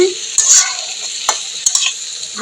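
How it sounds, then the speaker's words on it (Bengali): Cauliflower and potatoes lightly frying in a pan, with a bright continuous sizzle broken by several sharp scrapes and clacks of a spatula stirring close by. "এখানে আমি ফুলকপি আর আলু ভেজে নিচ্ছি হালকা করে"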